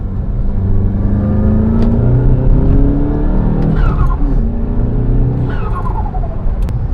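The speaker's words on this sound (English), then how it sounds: "This is stock, no tune, MK7 GTI, intake, blow-off valve." A stock, untuned VW MK7 GTI with an aftermarket intake and blow-off valve, its engine droning loudly from inside the car and rising through the gears, with a rising whoosh as each shift comes.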